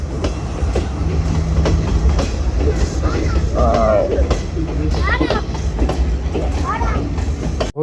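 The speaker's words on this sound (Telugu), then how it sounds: "ఇది వచ్చేసి సెకండ్ ప్లాట్ఫామ్ మీద ఇటు వెళ్ళే ట్రైన్స్ వస్తున్నాయి" Train at a station platform on the Ella to Colombo line in Sri Lanka, a steady loud rumble of rolling wagons with faint clatter and some squeal, while people talk nearby.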